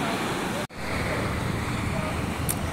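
Sea waves wash ashore at sunset in a steady broad rush, blended with gusting wind buffeting the microphone, with a brief dropout early on.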